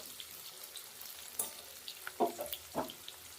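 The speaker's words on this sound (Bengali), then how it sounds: "দেখো আলুটা অনেকটা নরম হয়ে গেছে লাল লাল করে ভাজা হয়ে গেছে" Potato pieces frying in a pan until soft and reddish, a quiet sizzle with a handful of louder crackles and stirring scrapes toward the end; no voices.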